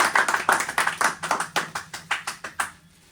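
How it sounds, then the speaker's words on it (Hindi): A small group claps loudly in welcome of a teacher, about a dozen sharp, close claps in an uneven rhythm, slowing and spacing out before stopping. "मैं अपने उस्ताद का स्वागत कर रहा हूँ भाई जोरदार तालियों के साथ भाई।"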